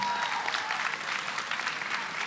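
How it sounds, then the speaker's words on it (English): Audience at a high school spoken word poetry event applauding its poets, dense continuous clapping from a crowd, steady and fairly loud. "And all your poets of the first half, give them all a big round of applause."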